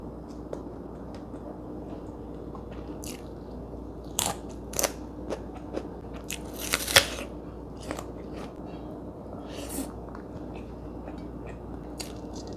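A crisp, sweet apple is bitten and chewed up close, giving scattered sharp crunches with quiet gaps between them and no talking.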